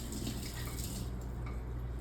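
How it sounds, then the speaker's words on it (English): Hands lathered with soap are rinsed under a running kitchen tap, a steady splashing water stream close by with no talk. "I'm gonna rinse my hands with some soap"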